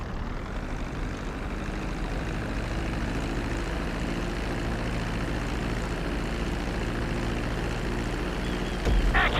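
A steady, even airplane engine drone as a plane decelerates and lands on a runway in the video game GTA V, continuous and unbroken, swelling slightly at the very end.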